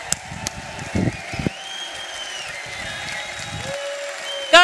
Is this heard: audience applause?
yes